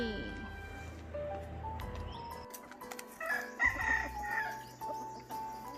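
A rooster crows at a moderate distance amid outdoor background noise, with other birds chirping faintly around it.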